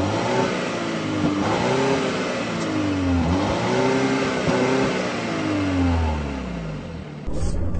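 Turbocharged Volvo car engine revving, the pitch rising and falling through several repeated sweeps as the revs climb, close and loud, settling toward the end, with no talking.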